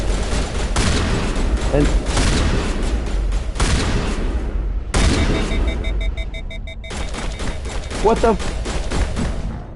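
Gunfire and heavy blasts from the video game Mass Effect Legendary Edition, a dense, loud barrage of shots and booms throughout, with a player talking over the action.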